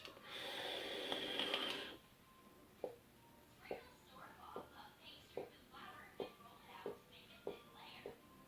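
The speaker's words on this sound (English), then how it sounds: "you might have even heard the semi-coughing sound while I was blowing those rings" Someone blows vapor rings, giving a long breathy exhale followed by a string of short, soft, coughing puffs repeating about every half second, close and fairly quiet.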